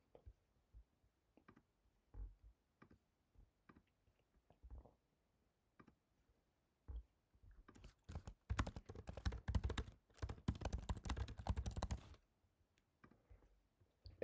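Someone types a comment on a computer keyboard, quiet and close: scattered single key clicks at first, then a dense burst of rapid typing lasting several seconds before trailing off into a few more clicks.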